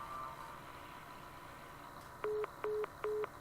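A telephone hotline call cuts off into a busy signal: three evenly spaced, steady tone bursts, clear but modest in level, over a low background hum.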